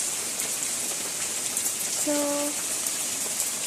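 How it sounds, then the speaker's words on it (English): Steady rain falls over a village, a dense, even hiss running throughout, with a short tonal hum rising briefly midway and a single spoken word. "It usually always rains"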